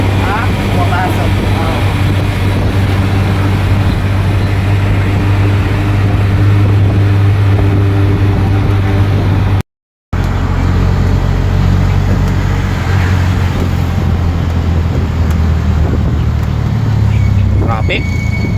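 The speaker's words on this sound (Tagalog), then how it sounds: "Traffic." Steady road traffic rumbles along the Antipolo zigzag road at night, with a continuous low engine drone from passing cars, buses and other vehicles. A brief dropout breaks it midway, and people talk intermittently over the noise.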